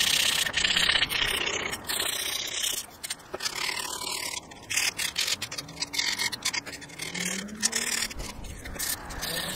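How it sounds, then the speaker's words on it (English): Close, uneven scraping and rubbing as wooden pieces for an aquarium light stand are sanded smooth, with irregular strokes and brief pauses. "So I decided to sand down all the pieces just to give it a smoother finish,"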